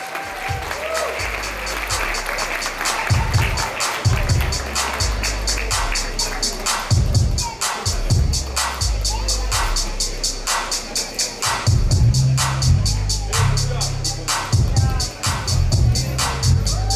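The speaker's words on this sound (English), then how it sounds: "a huge round of applause for our groom and his mother" A wedding reception audience applauds the groom and his mother, steady loud clapping from a crowd throughout, with voices and cheering mixed in.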